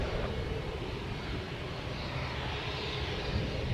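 An aircraft engine roars steadily at takeoff power, a dense broadband drone with no pauses and no voices over it.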